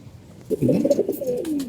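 A single pigeon gives a clear, close rolling coo that swells and then trails off over a quiet background, with no talking.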